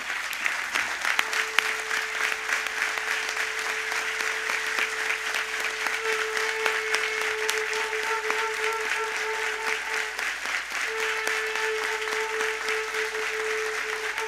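Sustained, dense applause from an audience standing in place at a kirtan performer's felicitation ceremony, loud and continuous throughout, with a faint steady tone running underneath.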